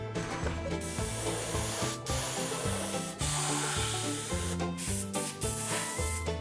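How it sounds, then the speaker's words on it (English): An airbrush spraying paint onto the straps and stitching of a college football helmet, a close, steady hiss with short pauses between passes, over background music. "And then that's when we start airbrushing the straps and the stitching and the holes in it."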